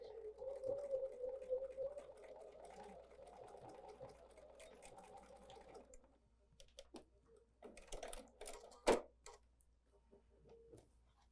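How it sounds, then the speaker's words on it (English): A sewing machine runs a steady straight stitch across the elastic of a fabric scrunchie, whirring continuously for about six seconds before breaking into short, scattered bursts of stitching. "We'll come to our machine, we'll do a straight stitch, and we'll of course be sewing across the elastic"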